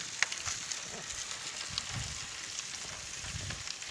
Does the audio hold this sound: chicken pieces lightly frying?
yes